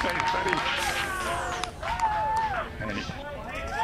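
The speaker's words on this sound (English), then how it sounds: "And there's the applause." A crowd at the Red Bull Stratos balloon launch claps and cheers as the balloon lifts off, scattered applause and excited voices outdoors, with a commentator talking over it.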